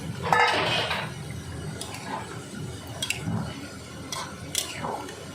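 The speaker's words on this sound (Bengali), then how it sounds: "ঝোল দিয়ে দিলাম জলটাকে ভালো করে মিশিয়ে নিলাম ভাজা আলু দিয়ে দিলাম" Mutton curry gravy with fried potatoes being stirred in a pan, giving soft scraping and clinking of a utensil against metal in irregular strokes, with faint simmering underneath and no talking.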